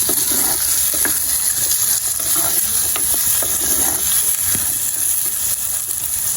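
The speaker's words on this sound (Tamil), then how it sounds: "வெங்காயம் போட்டு வதக்க உள்ளி வெங்காயம் எல்லாம் போட்டு" Onions and garlic sauté in a pan for a sundakkai dish, making a loud, continuous sizzle and hiss with scattered scraping and stirring knocks up close.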